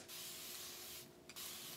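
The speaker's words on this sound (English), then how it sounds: "Just fill a little water bottle up. Just spray the twist." A water spray bottle mists natural hair mini twists in two close hissing bursts with a short pause between them.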